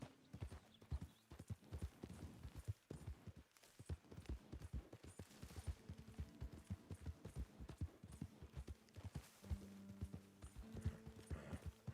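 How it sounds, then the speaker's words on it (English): Steady clip-clop of horse hooves trotting in the video game Red Dead Redemption 2, with a few snorts and a faint whinny over a soft background hum. "Get rid of that horse."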